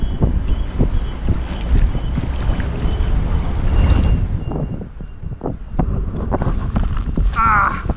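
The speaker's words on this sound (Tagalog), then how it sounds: "Binabalik sa atin ang hangin." Strong wind blows at sea on a rough coast at Maitang, loud, steady gusting and microphone buffeting over churning water, with a brief voice near the end.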